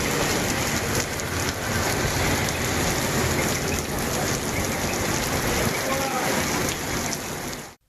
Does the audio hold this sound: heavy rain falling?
yes